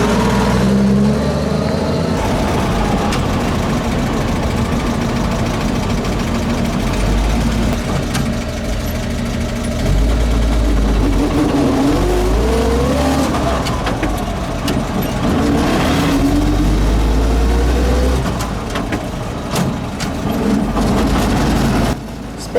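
A GMC CCKW 352/353 WWII army truck engine running while driving, heard loud and close from the cab as a steady rumbling drone that rises and falls with gear changes throughout.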